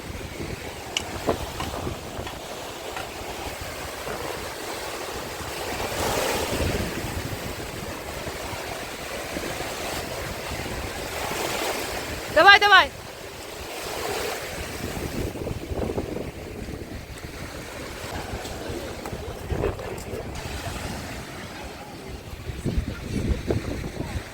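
Steady wash of wind and surf along a beach in Odesa, with gusts buffeting the microphone and a brief louder burst midway; no voices.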